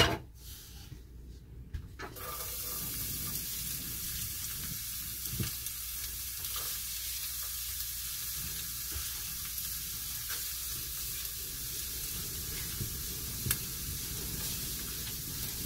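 Diced onion, a whole onion's worth, hits hot oil in a pan as part of a risotto. It sizzles and fries steadily and quietly close by, with the faint scrape of stirring and no talk.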